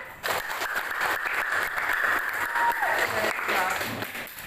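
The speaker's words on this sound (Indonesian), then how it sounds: "Oke, bagus sekali, tepuk tangan." Schoolchildren in a classroom clap together after a teacher's prompt, a moderate, slightly uneven burst of applause that starts abruptly and fades near the end, with some voices mixed in.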